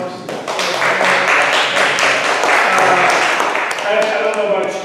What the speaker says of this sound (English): we want to really give Brother Rizo a round of applause.